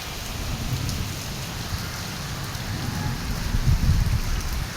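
Heavy rain pours down steadily in Lahore, a dense, continuous hiss with low rumbling patter from water striking nearby surfaces, slightly louder toward the end and with no voices.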